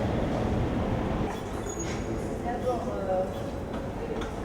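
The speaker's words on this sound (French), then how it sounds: "nous descendons dans le métro pour aller voir le Vieux-Port" A Marseille metro train rumbles loudly and steadily, with faint wheel squeal and rail noise rising briefly over the ride; voices murmur underneath.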